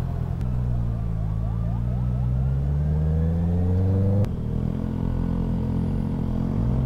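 Saturday road traffic heard from a Honda CB650R motorcycle, with a loud close engine drone rising steadily in pitch, then shifting and settling after a brief click, with no talking.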